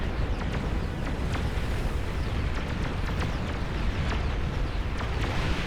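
Explosions rage in the real-time strategy game Beyond All Reason, a dense, continuous rumbling roar peppered with sharp crackling pops and bursts throughout.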